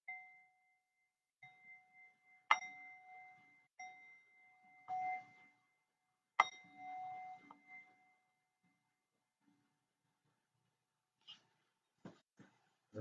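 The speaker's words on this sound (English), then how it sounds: "I will open up the proceedings with seven bells for one for each chakra." Meditation bells struck one after another to open a session, one for each chakra; several clear ringing strikes with sustained tones fading between them, quiet and spaced apart, followed by near silence and a few faint knocks.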